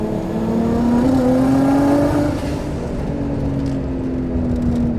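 An 800 HP turbocharged Nissan Skyline R33 GT-R runs hard on a Tokyo mountain road, its loud, close engine drone climbing steadily in pitch as it revs, easing briefly mid-pull, then pulling on.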